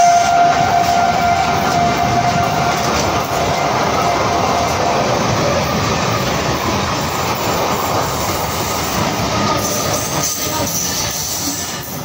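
An express train runs steadily with a loud, continuous rumble and rattle of rail cars that lasts the whole stretch. A faint high tone sits above it, and no one speaks.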